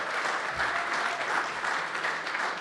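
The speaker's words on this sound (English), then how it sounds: "Let's give one more round of applause, guys." Steady audience applause fills a room at the close of a post-election briefing, a dense even wash of many hands clapping with no talk over it.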